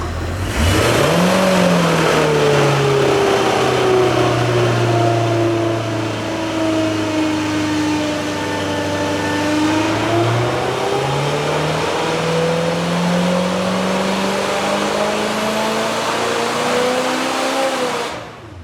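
A junkyard Ford 289 V8 that sat for over 45 years roars on a dyno, climbing quickly then holding a loud steady pull before rising again, its engine tone sweeping up near the end without any voices.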